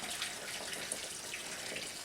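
Cider juice poured through a funnel for a hard cider recipe, a continuous soft hissing trickle of liquid, fairly faint and close, with no talking.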